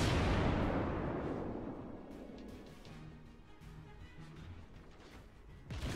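Naval artillery on a warship firing high-explosive shells in World of Warships: one loud, deep boom opens the clip, then its long rumbling decay fades over several seconds, and a second report starts near the end.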